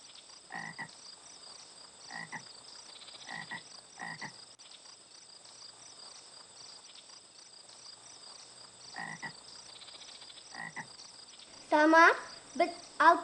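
Frogs croak by a lake in short, spaced calls, fairly faint and distant, over a steady high chirring of insects, with a louder burst of sound near the end.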